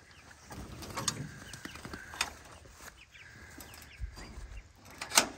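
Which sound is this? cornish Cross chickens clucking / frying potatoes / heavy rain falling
cornish Cross chickens clucking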